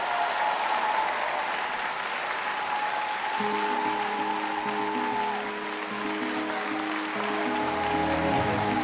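Audience applause at a televised French music gala, a steady broadband wash of clapping that continues throughout as sustained musical tones and a band intro start up underneath partway through.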